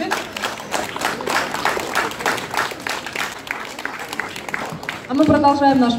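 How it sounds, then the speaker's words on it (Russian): Audience applause at a literary celebration of Pushkin, lively clapping throughout that sounds close and clear, then a voice starts speaking over it near the end. "аплодисменты."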